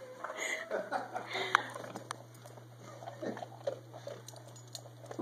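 A dog crunches and chews a treat in a few brief, soft bites scattered over a steady low hum, with some talk and faint background noise around it.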